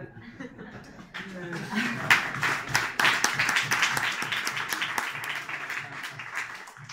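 Audience applause at a comedy monologue show builds from scattered claps into a full, sustained round, mixed with chuckles and laughter from the crowd.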